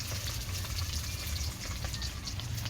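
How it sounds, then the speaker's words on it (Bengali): A large fish fries crisp in oil on an outdoor stove, giving a soft, continuous sizzle and crackle, heard close and alone. "একদম কড়া করে ভেজেছি মাছগুলো।"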